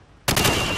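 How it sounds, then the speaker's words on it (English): A burst of automatic gunfire erupts suddenly in Call of Duty 4 as a rifle is fired from the hip at targets, loud and close, with rapid shots followed by a short reverberant tail. "shoot at the targets while firing from the hip"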